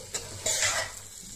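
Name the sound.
rice being stirred lightly in oil in a pan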